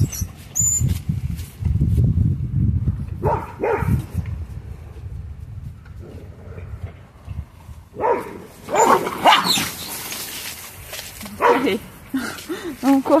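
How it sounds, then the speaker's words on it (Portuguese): A dog on a farm where cattle graze barks, yelps and whimpers in scattered bursts, sometimes near and sometimes farther off, with people talking throughout. "Lara, o cachorro tá aí"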